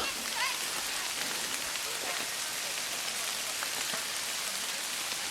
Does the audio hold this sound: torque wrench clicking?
no